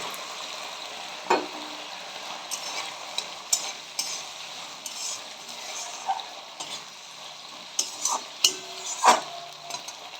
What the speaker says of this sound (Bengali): মশলাটা বেশ সুন্দর করে কষা হচ্ছে। এই সময়তে আমি টমেটোগুলোকে দিয়ে দেব।